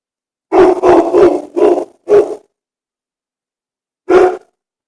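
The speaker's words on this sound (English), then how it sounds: "So you probably hear my dogs barking in the background." Dogs bark outside in a loud rapid burst of five sharp barks, then fall silent before one last bark a couple of seconds later.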